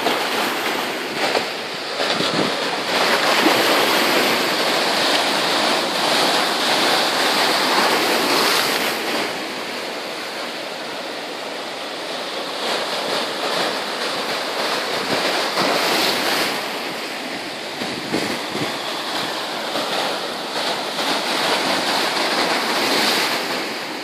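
Sea waves break against rocky shore stones in a continuous loud wash, with surging swells and wind buffeting the microphone, no voices.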